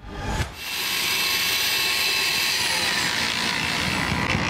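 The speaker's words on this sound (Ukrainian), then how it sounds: "Будівельний міксер на повну, бетономішалка без зупину." A loud, steady mechanical roar of a construction mixer and concrete mixer running nonstop at a park entrance renovation in Vinnytsia, starting after a brief thump and holding constant throughout.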